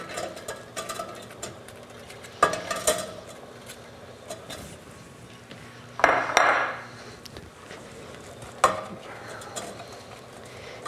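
Zucchini and Brussels sprouts dropped into a metal steamer pot while cooking vegetables, giving a few sharp metallic clanks and rattles of the pot and lid amid quieter handling clatter, close by with no talk.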